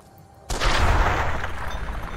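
An exploding corpse in Fallout New Vegas bursts with a sudden loud blast, then a dense, roaring rumble that lingers close and heavy to the end.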